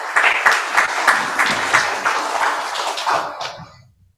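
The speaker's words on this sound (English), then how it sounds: "request all of you to join us with a round of applause for our audience, speakers, sponsors, friends from media" Audience applause at the close of the BITC 2022 conference, a moderately loud run of rhythmic, fairly sparse claps that thins out and fades to silence within about four seconds.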